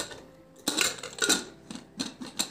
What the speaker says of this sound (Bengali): তো প্রেসার কুকারের ঢাকাটা আমি দিয়ে দিলাম